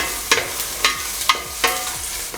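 Dry red chillies and golden urad dal sauté in hot oil for a tempering, with a steady close sizzle broken by rhythmic scraping strokes of a spoon about every half second.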